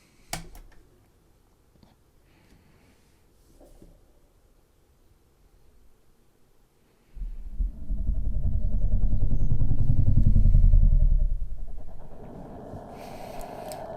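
A heavily slowed-down sound, a deep, rumbling low roar that swells loudly in the second half before thinning out, with faint clicks early on.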